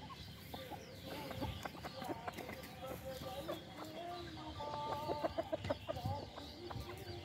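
Egg-laying hens on a farm cluck repeatedly in short, uneven bursts, several birds close by over a steady background murmur.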